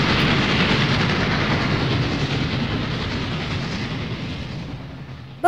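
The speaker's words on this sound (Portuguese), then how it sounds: "um trem iluminado que vinha passando roncando como um" An illuminated train passing by, a loud continuous rumble like thunder with faint clickety-clack, steady and close before easing slightly toward the end.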